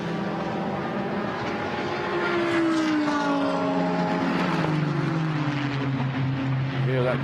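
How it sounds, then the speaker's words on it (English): A Nissan GT race car's V6 engine drones loudly and steadily during the Kyalami 9 Hours Continental GT Challenge race, its pitch sweeping down and back up as it passes, under commentators' talk. "Hear that familiar V6 drone from the Nissan."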